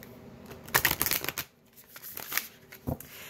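Deck of angel cards shuffled by hand, a close, crisp riffle of rapid card flicks followed by a few softer taps and a final quick riffle, with no speech.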